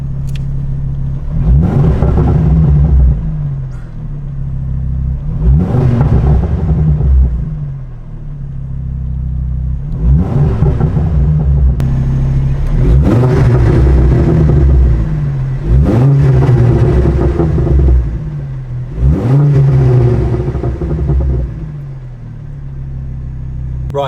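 A Mk2 Ford Focus ST tuned to 313 bhp, with a Milltek Ultimate exhaust and RS centre section, revs loudly in five or six rising bursts over a steady deep engine rumble, heard up close with no talk.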